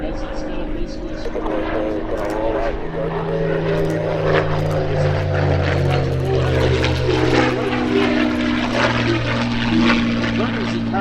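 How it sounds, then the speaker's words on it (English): A World War II Supermarine Spitfire flies past at an air show gathering of warbird fighters, its piston engine droning loud with a shifting pitch as it passes, while an announcer talks over it. "World War II, the Supermarine Spitfire."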